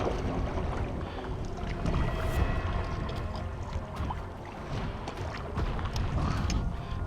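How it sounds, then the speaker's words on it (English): An Intex K2 Excursion Pro inflatable kayak, heavily modified, is paddled along the shore of Lake Britton, with a steady wash of water and soft paddle splashes close by and light breeze behind. "I'll just paddle right along the shore"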